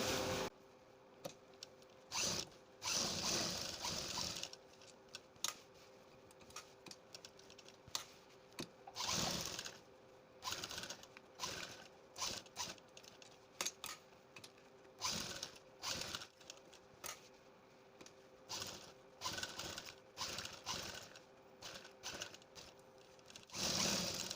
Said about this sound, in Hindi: अब यहाँ पे हम बुकरम के किनारे से सिलाई लगा देंगे।